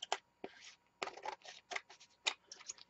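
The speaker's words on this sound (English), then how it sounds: "I'm just going to take my scissors and I'm just going to cut this little jaggedy piece" Scissors snip through the jagged edge of a piece of paper while a junk journal is made, a series of short, crisp cuts and rustles, close and quiet with pauses between.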